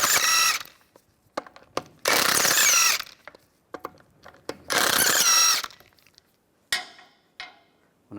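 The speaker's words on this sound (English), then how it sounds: "Take the lug bolts out." An impact-style ratchet wrench with a 17mm socket removes the wheel lug bolts on a 2007-2013 Mini Cooper. It gives several loud, sustained rattling bursts, separated by short clicks and clanks of the socket and bolts, close to the listener.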